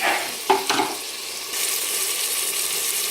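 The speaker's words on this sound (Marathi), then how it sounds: "एक वाटी कांदा आणि एक वाटी टोमॅटो घेतला ते टाकून घेऊ" Chopped onion and tomato hitting a hot pan for a chicken thali, with two sharp clatters of the ingredients dropping in followed by a steady close sizzle and frying hiss.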